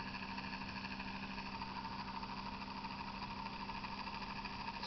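A small Joule Thief Muller dynamo motor drives an LED load, giving a faint, steady mechanical whir and hum that runs evenly throughout with no voices.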